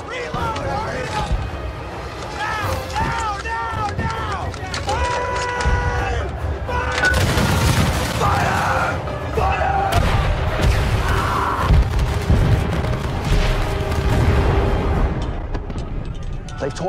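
Musket volleys and cannon fire rumble through a Napoleon: Total War battle, deep booms and crackling shots layered under shouting voices and an orchestral score.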